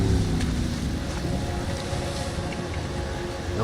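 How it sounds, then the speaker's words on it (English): A motorboat engine in the video game Max Payne 3 gives a continuous broad rumble and wash of water, loud and steady throughout, with no voices over it. "I'm gonna cut the engine. Glide in."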